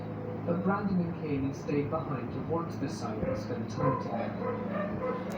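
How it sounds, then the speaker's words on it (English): A dog barks and yips in the background, a loose run of short yelps and whimpers beneath steady narration that continues over it. "That's my dog's barking."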